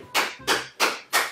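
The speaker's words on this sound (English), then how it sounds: "let's give a hand of applause to Michelle" A small group claps in four distinct bursts, each a sharp rising swell of hand slaps that fades before the next, spaced about a third of a second apart, close and fairly loud at a family game-show style challenge.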